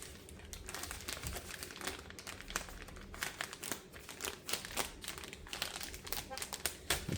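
Sealed plastic wrap on a DJI Mavic 4 Pro drone battery case crinkles and crackles as it is handled, a dense, continuous run of close, quiet rustling and small snaps.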